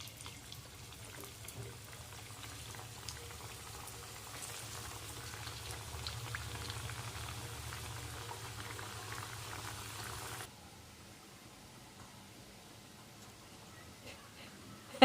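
Apra pitha batter frying in hot oil, a steady low bubbling sizzle that runs for about ten seconds and then drops to a quieter background hiss.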